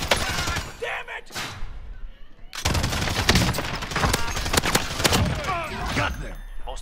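Video game gunfire crackles in rapid bursts and scattered single shots, loud and dense, mixed with thumps and a player's excited voice over it.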